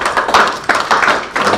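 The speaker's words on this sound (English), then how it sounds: "we just need to maybe give the team another round of applause" Steady clapping from a group, a dense patter of hands with a few louder bursts, fairly close and loud.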